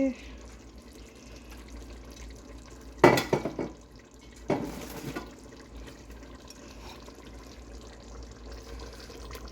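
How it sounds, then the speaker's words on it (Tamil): Two short splashy bursts of water pour into a pan close by while cooking squid curry, separated by a pause, over a quiet background. "சொட்டு தண்ணியை விட்டு அலசி இந்த சட்டிக்கில் விட போகிறேன்"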